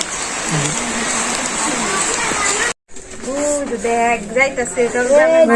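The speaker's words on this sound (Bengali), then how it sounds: "বৃষ্টি পড়তেছে" Steady hiss of rain falling, close and continuous, with voices talking over it in the second half.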